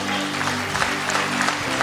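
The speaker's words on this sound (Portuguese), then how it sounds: "dá um aplauso ao Senhor, irmão" Congregation applause at a church service, a steady wash of clapping with faint crowd murmur, moderately loud and continuous, over a low sustained hum.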